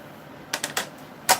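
A knife saws through a soft-crusted loaf of sourdough bread, giving three quick, close, crisp rasping strokes followed by a brief pause and one more sharper stroke.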